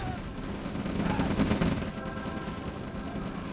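Rapid bursts of gunfire rattle continuously during an attack in the real-time strategy game OpenRA Red Alert, dense overlapping shots with a low rumbling bed underneath.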